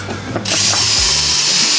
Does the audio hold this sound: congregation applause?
no